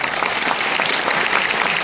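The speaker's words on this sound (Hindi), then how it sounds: "इनके लिए प्लीज तालियां बनती है" Loud, dense applause from a crowd in an auditorium at an offline business meeting in Delhi, many hands clapping continuously and evenly without any talk.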